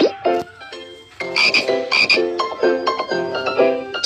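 Rapid rhythmic croaking from a tree frog, repeated bursts of raspy calls with short pauses, fairly loud and close, no voices.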